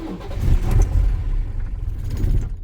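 A cold diesel car engine, troubled by bad fuel, runs rough and uneven at low throttle, a close rumbling churn that sags and fades toward the end as it stalls, with no talk.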